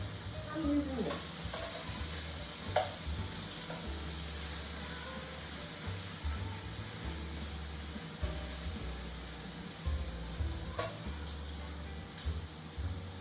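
Bacon fries in a pan for making gravy, giving a steady, close hiss and crackle throughout, with occasional scrapes and pops and a low rumble running under the sizzle.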